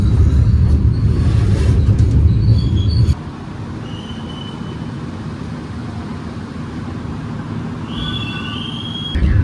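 Steady rumble of the Gaya Baru Malam Selatan passenger train, heard from inside a carriage as it runs toward Yogyakarta. A loud low roar drops after a few seconds to a softer drone, with faint high wheel squeals overhead and no talk.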